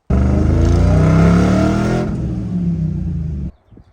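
A tow truck with a Hellcat-swapped supercharged LS engine making about 700 horsepower, revving loud and close with a rising harmonic whine, then easing off before cutting out abruptly into quiet.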